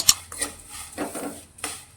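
Mango seed mukhwas being stirred with salt and black salt in a pan, giving a few scraping, rattling strokes with a sharp clink near the start, close and fairly quiet.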